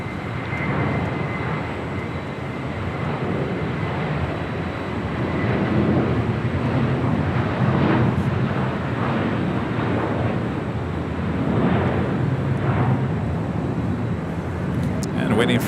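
Delta Boeing 767-400ER taxiing to runway 24 left at Los Angeles, a steady distant engine hum under wind noise while someone talks over it.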